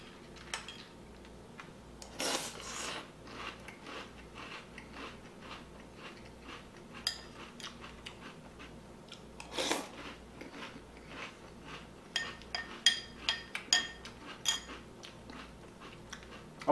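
Crunchy bites and chewing of Magic Spoon chocolate keto cereal, small ring-shaped pieces, heard as faint, close, irregular clicks and crunches over quiet room noise, with a few sharper bites later on.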